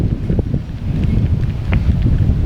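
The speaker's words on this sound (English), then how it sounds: "No, it's windy." Wind blows outdoors at a tire shop beside a truck, a loud, continuous low rumble buffeting the microphone throughout.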